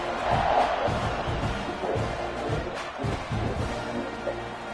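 A football stadium crowd roars steadily before a kickoff, a dense wash of cheering and shouting that stays loud throughout with no clear individual voices.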